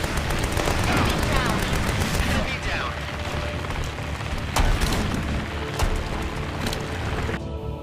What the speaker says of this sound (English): enjoy the big booms and destruction of your mech's guns as they tear down the enemies